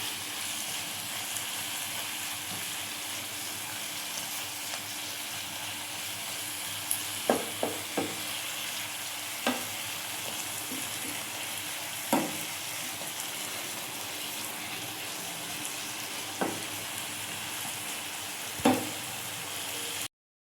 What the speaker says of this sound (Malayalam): അപ്പം ഇത് നന്നായിട്ട് ഇളക്കി കൊടുക്കുക.